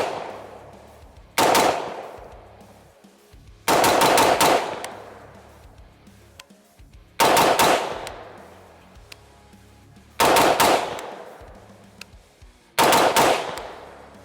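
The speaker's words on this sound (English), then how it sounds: "I'm going to shoot it for groups" A POF P415 Edge AR-15 rifle fires five quick bursts of several rapid shots each, loud and close, with gaps of a second or two and outdoor echo trailing after each string.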